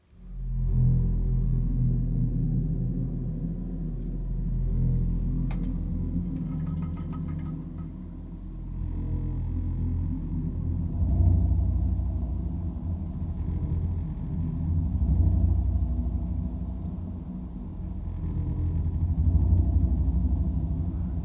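A low rumbling sampled note, an F with a tritone below, sustains as a heavy bass drone, loud and continuous with slow swells and no talking.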